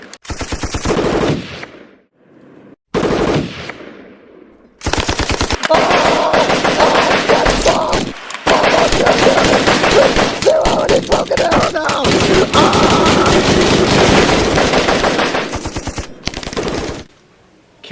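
Loud, rapid bursts of machine gun fire in a Vietnam War comedy sketch, long sustained rattling volleys broken by brief silences, close and dominating.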